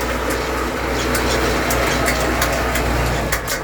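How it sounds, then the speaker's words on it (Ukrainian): A KATA KE504 tractor engine idles steadily nearby, a continuous low heavy rumble with faint clicks and rattles on top, no voices. "Трактор працює"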